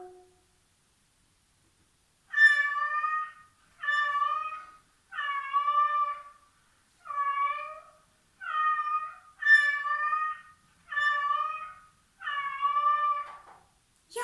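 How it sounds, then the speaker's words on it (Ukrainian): A domestic cat meows eight times in a slow, evenly spaced series, each call clear and drawn out against near silence, with no talking. "Правильно, це киця."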